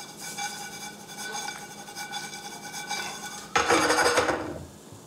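Granola is stirred in a pan, a steady scraping and rubbing of a utensil against the pan, then a louder, harsher burst of scraping near the end.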